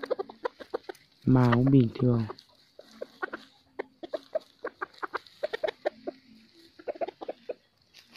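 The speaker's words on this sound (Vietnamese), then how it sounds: "đây là gà S3 máu rừng cao" An F3 high jungle-blood chicken, tall-legged and jungle-fowl-like in build, clucking in a run of short, sharp calls, with a voice speaking partway through.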